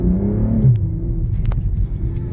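A BMW M240i engine rumbles loudly as the car accelerates, a deep continuous drone close by with a brief shift in tone midway and a few faint clicks.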